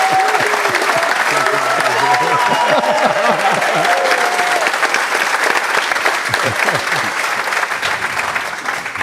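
Loud, continuous applause and cheering from a crowd welcoming a panel of three at a football club fans' forum, with whoops and voices rising over the clapping before it slowly tapers off near the end.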